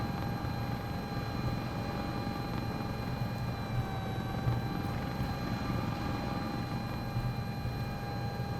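A CowanSim S76 helicopter flies at high speed in Microsoft Flight Simulator 2024, giving a steady, continuous rotor and turbine drone with a constant whine above it and no pauses or voices.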